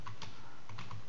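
Quick bursts of keystrokes on a computer keyboard while entering PHP and MySQL code, close and crisp clicking with brief pauses, no voices.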